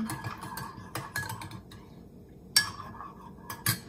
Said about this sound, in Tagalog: hinahalo ko yung aking collagen powder sa green tea.